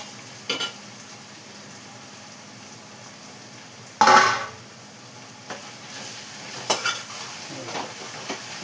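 Curry with coriander cooks in a pan, giving a steady soft sizzle with scattered clinks and stirring scrapes and one louder clatter midway. Nobody talks.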